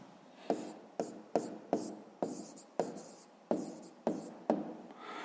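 A pen writes out a maths answer on paper in a run of about ten short, evenly spaced scratchy strokes, close and quiet, with no talking.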